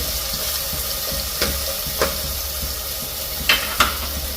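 Onion, garlic and green chillies fry until golden with a steady, even sizzle, punctuated by a few sharp clicks and scrapes of stirring, close by and without any speech.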